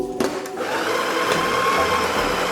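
An espresso machine grinder whirs steadily for a double shot, a close, continuous mechanical drone that starts after a brief click, with no voices.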